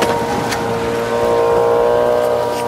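A sailing yacht motoring under engine into a shipping channel on the North Sea and Wadden Sea, giving a continuous close motor hum with a faint tonal whine and a few brief knocks, with no talking.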